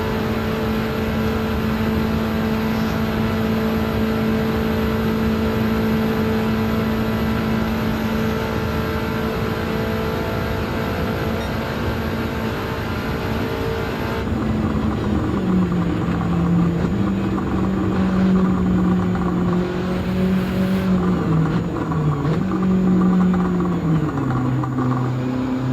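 A VW GTI racing at top speed in Gran Turismo 7 on the Nürburgring: a loud, sustained engine drone holding steady, then wavering and dipping slightly in pitch near the end, with no voices.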